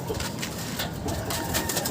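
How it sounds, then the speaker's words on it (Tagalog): A racing pigeon, provoked by its handler, coos in deep, throaty rolling bursts close to the microphone, with rustling and a busy loft or outdoor background underneath. "Ito, papakita sa atin ni Sir Norliel kung paano niya galitin itong kanyang ibon na si FR."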